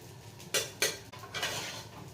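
A utensil scrapes and clinks against a pan while pepper powder is stirred into veg fried rice, with two sharp metallic knocks followed by softer scraping.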